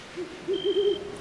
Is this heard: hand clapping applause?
no